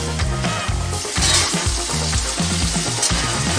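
Mushrooms sauté in a pan for a gravy, a loud, continuous sizzle with stirring scrapes. Steady low tonal sounds run beneath it throughout.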